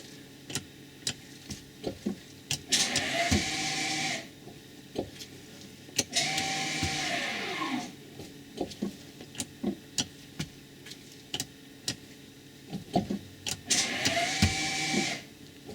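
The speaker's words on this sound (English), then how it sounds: "engage the parking brake and release it again" A car's electronic parking brake motor whirs as it engages and releases, three separate buzzing motor runs a couple of seconds each, separated by clicks and small handling taps, with no voices.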